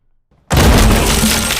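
Glass shatters in one sudden loud crash as windows break beside a door that is slammed open into splinters, the burst of breaking glass ringing on for over a second after near silence.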